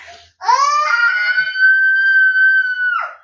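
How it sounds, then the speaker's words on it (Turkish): A child's long, piercing scream at a crowded amusement park during a holiday outing, rising sharply and holding loud and close for nearly three seconds. "Hala devam ediyor çığlık."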